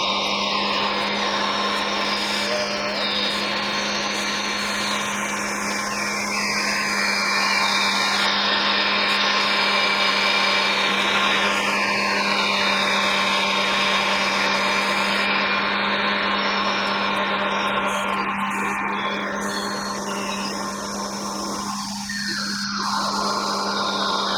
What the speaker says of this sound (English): we've got our casing on here, and you're just going to try to grind it to stop